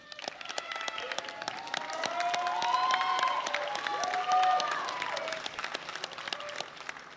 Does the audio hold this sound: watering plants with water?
no